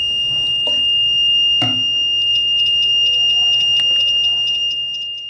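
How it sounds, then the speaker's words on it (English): An Arduino dam monitoring system's buzzer sounds a steady high-pitched electronic tone for a high water level, with faint repeated beeps and a few clicks and knocks close by. "Buzzer is the beeping and GSM sending this text message."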